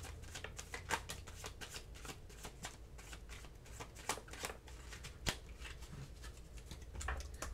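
Tarot cards being handled and shuffled, a string of crisp papery flicks and slaps in irregular bursts, close and fairly quiet, with no talking over them.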